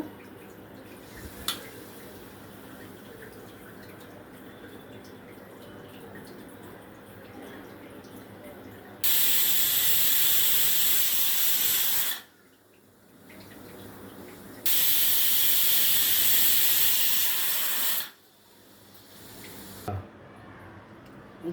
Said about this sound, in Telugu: చూడండి విజిల్ వస్తుంది